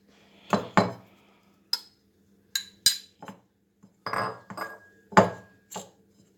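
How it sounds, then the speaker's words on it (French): Vegetable butter is worked into flour in a bowl for an apple tart, heard as a scattering of sharp, separate clinks and scrapes of utensil on bowl, close and intermittent against near silence. "je mélange bien pour que le beurre soit intégré à la farine"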